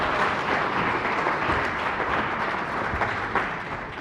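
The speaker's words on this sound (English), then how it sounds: "One more round of applause for Danilo, if you don't mind." Applause at a small-business recognition event in Miami-Dade County, a sustained steady patter of many hands clapping that continues evenly and fades slightly toward the end.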